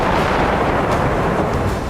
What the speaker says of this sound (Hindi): यहाँ लगातार गोलाबारी की जा रही है।